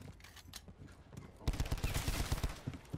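Rapid bursts of LMG machine gun fire in a zombies video game, starting halfway through as a dense, loud rattle after quieter game sounds.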